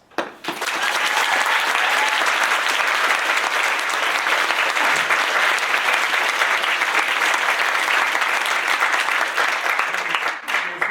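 A theatre audience, mostly nursing students, bursts into sustained applause at a live comedy show, starting abruptly and swelling into a thick, loud roar of clapping that holds steady for about ten seconds before tapering at the end.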